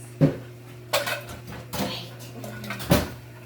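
Bowls being taken out of kitchen cabinets, with a few sharp clinks and knocks of dishes set down at irregular intervals, close by.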